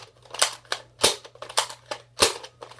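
A Nerf Maverick six-shot toy blaster being worked close up: about eight sharp plastic clacks and snaps in an uneven rhythm, fairly loud and alone apart from a steady low hum underneath.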